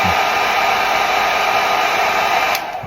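A hair dryer blows steadily on a child's long curly hair, loud and close with a constant airy roar, then it drops slightly in level near the end as the dryer is moved or switched.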